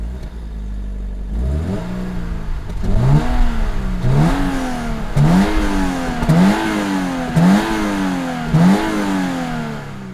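A Toyota GR86 exhaust roars as the engine starts, then revs repeatedly in a rhythmic series of about six rising and falling surges, loud and close, with no talk.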